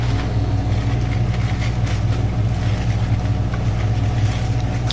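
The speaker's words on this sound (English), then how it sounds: "So there we go, full speed spin." A front-loading washing machine runs its spin cycle at full speed, giving a loud, steady droning rumble with a constant mechanical whir throughout.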